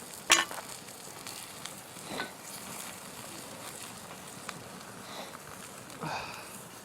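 Sausages sizzle and burn on an overheated griddle whose top has caught fire, a soft steady frying crackle with a few sharper pops and faint clatter, fairly quiet and with no talk.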